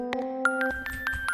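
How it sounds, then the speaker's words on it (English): A Lounge Lizard organ piano plugin plays short, bright, tinkling notes over a held chord that drops away midway, leaving a quick plucked pattern over a soft low rumble; no voices. "we have a little organ piano sound like this"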